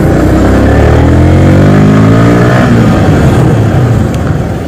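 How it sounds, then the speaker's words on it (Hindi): Loud nearby motorcycle engine revving up through rising gears on a traffic road, with the throttle climbing over several seconds and then easing off, plus a faint vehicle background. "तो देखते हैं यहाँ पर भी ट्रैफिक"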